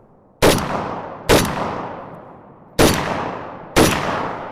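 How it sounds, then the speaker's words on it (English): An Arsenal SAM7K-44 AK rifle fires four sharp, loud shots outdoors at close targets, spaced unevenly about a second apart, each blast followed by a long decaying echo. "we got a few more rounds we're gonna put through the AK here"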